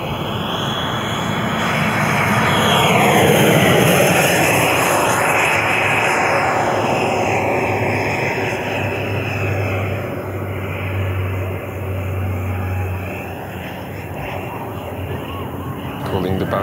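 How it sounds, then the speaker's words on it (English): An Odyssey JETFAN-130 PRO, a large EDF jet model plane, makes a slow flyby, its ducted-fan whine swelling and fading steadily throughout, loud and continuous with a brief lull near the end. "Let's make one slow flyby."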